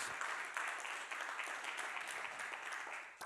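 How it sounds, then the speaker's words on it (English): A church congregation claps hands inside a large building, a quiet but dense and steady wash of many hands from a distance, continuing throughout without speech. "Real loud in this building, clap your hands so people at home could hear this."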